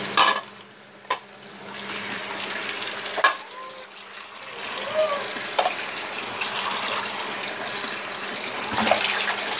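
Eggplant and other vegetables are rinsed under a running tap in a home kitchen, water splashing steadily with brief clatters of handling and a faint voice at times.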